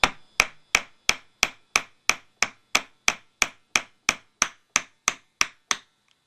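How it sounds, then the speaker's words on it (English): Steady, evenly spaced heavy hammer blows, about eighteen sharp strikes in a row at a brisk rhythm, close and loud, ending in silence. "Might have to resort to my big hammer on this one"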